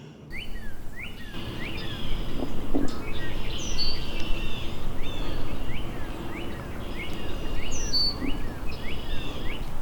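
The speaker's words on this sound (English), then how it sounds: "There's some red-winged blackbirds out there." Red-winged blackbirds call repeatedly in a meadow beside White Clay Creek, their bright chirps and trilled notes recurring over a steady outdoor hiss with faint insect sounds, moderately near.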